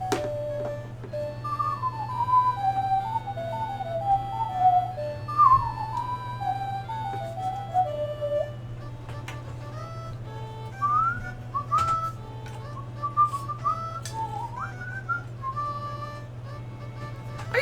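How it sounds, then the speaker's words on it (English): A person whistles a wandering, warbling tune in a series of sliding phrases with short pauses, close and clear over a low steady hum, with no talk. "I gotta sit here and whistle all day"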